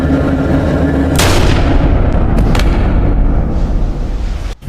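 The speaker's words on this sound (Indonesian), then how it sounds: "Ketika akan pergi, sebuah tembakan mengenainya lalu ia pun tewas seketika." Gunfire in a film scene: loud, sharp gunshot blasts cut through a dense, roaring background, with one shot early and another a moment later.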